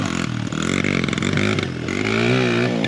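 A 100cc pit bike engine in need of a tune-up revs loud and close, its buzzing tone wavering and rising in pitch across the stretch with no talking over it.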